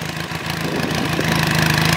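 A Benelli TRK 502X adventure motorcycle engine running loud and close, a throbbing rumble that builds steadily as the throttle is opened a little.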